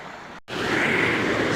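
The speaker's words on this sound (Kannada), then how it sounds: "ನೀರು ತೂಬ್ನಾಗಾಶಿ ಸಿಕ್ಕಾಬಟ್ಟೆ ನೀರು ಹೋಗ್ತಾ ಇದ್ದಾವೆ" Lake water rushes out through a sluice gate at a village tank, a steady loud roar of flowing water that breaks briefly, then resumes strongly.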